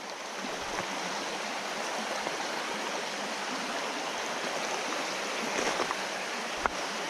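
Steady broadband rush of a mountain creek spilling over a small waterfall into a pool in the North Carolina backcountry, continuous and close, with no voices and only slight swells in the flow.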